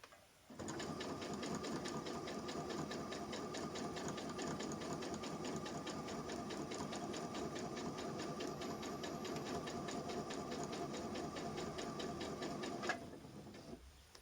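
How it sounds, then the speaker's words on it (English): Sewing machine stitching fabric for a lampshade at a moderate speed, a steady, even mechanical whirr with rapid needle ticking that runs for about twelve seconds and then stops, fairly faint and close, without talk. "I haven't got it on a fast setting because I don't like the stitches to run away with me"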